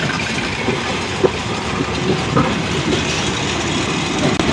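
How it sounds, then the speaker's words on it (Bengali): The Chilahati Express, a broad-gauge train, rolls into Joydebpur station with a dense, continuous rumble of wheels and carriages, loud and close, and a few faint clacks over the steady roar. "শিলাহাটি এক্সপ্রেস অলরেডি পঁয়ত্রিশ মিনিটের একটি বিলম্ব নিয়ে জয়দেবপুর স্টেশনে প্রবেশ করলো"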